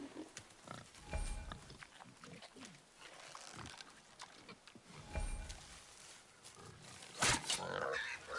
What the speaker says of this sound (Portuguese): Sabia que era um javali.